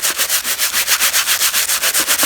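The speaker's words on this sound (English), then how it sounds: "I'm just kind of scrubbing a little bit here, there," Sneakers being scrubbed clean with a brush, a steady, fast rhythmic rubbing with about two strokes per second, loud and close, with no talking.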